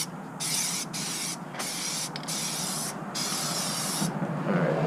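Plasti Dip rubber coating misted from an aerosol can onto car rims in several short hissing bursts separated by brief pauses, close and steady.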